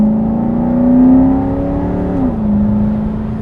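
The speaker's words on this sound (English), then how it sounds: "Sounds so good, the engine intake." The intake of a 2001 Lexus GS 430 V8 with 222K miles growls close and loud, the engine note swelling, briefly dipping, then settling into a steady hum.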